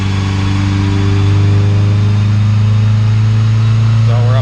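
A Honda CR-V with a naturally aspirated B20V engine runs on a dyno, holding a loud, steady mid-pitched drone that climbs slightly as it shifts into fifth gear toward highway speed.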